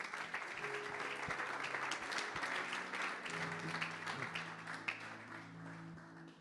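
A church congregation breaks into sustained applause, a dense wash of clapping filling the room with a few sharper claps and faint voices underneath.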